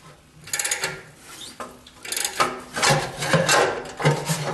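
Scraping and wrenching on a stuck oil filter under a 1976 Corvette, with repeated rough rasping and rubbing bursts of metal on metal, close and fairly loud, no voices.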